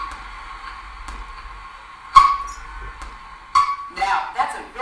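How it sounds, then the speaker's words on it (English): A hard drive suffering a head crash, the read head striking the spinning platter: steady whine and hum broken by two sharp scraping clacks and a rough grinding burst near the end, fairly close and clear. "When it does, it's called a head crash, and it sounds like this"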